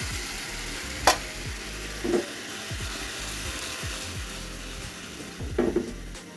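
Fish curry simmering in a pot with water: a soft steady sizzle and bubbling, with a few stirring scrapes and knocks, close and moderately quiet.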